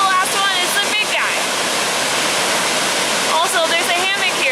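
Big waterfall on Japan's Izu Peninsula: a steady, loud, broadband roar of falling water fills the whole clip, close by, with brief faint voices rising over it near the start and end.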